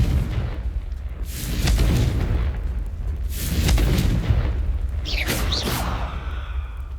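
Confringo blasting spells exploding in the video game Hogwarts Legacy, three loud booming blasts a second or so apart, each with a rumbling tail, the last topped by a bright whooshing burst.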